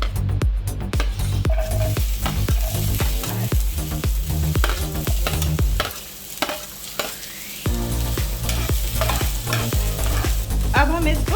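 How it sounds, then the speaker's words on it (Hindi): Onions and green chilies fry in hot oil in a pan, giving a loud, steady sizzle broken by repeated scraping stirs close by, with a short quieter stretch midway and no voices. "now we are going to add onions and green chillies"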